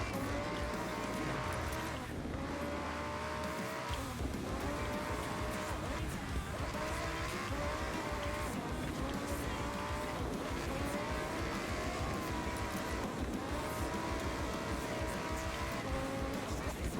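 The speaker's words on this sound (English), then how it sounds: "So, drifting." A car drifts in Japan with continuous loud engine roar and screeching tire squeal, sustained and close throughout.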